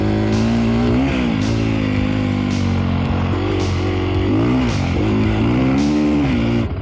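A Sherco 500 supermoto motorcycle engine runs loud and close, steady throughout with repeated revs rising and falling in pitch every second or so, with no talking over it.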